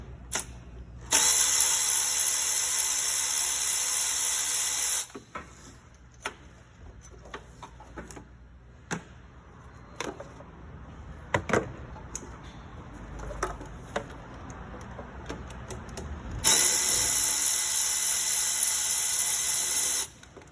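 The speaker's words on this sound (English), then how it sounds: "you should be able to go down there with a battery powered Milwaukee 3/8 ratchet and take those suckers right on out of there" A battery-powered Milwaukee 3/8-inch ratchet spins bolts out on a 2007 Nissan Altima, giving two loud, steady whirring runs of several seconds each with quieter clicks, clanks and handling noise between them, close up and without talk.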